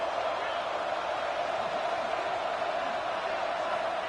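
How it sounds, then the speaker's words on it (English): Dense, steady roar of a large stadium crowd at a college football game in the fourth quarter, loud and continuous without pauses. "No fall off from the noise or intensity from this crowd as we start the fourth quarter."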